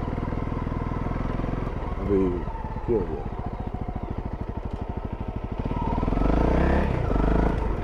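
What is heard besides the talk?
motorcycle riding off-road while testing ABS brakes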